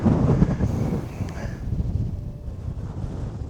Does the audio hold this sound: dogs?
no